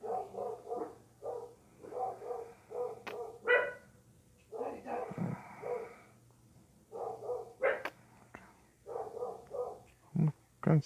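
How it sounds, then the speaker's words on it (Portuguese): A hostile dog enemy in Castlevania: Circle of the Moon barks in repeated short bursts of yaps, broken by brief pauses, over a low steady game hum. "Ah, esse cachorro chato."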